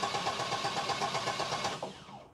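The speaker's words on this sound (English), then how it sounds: "with the push of this 87 button, the starter should engage" A car starter motor engages during a bench test with a starter tester kit, giving a steady mechanical whir with rapid pulsing for about two seconds before winding down and cutting off near the end.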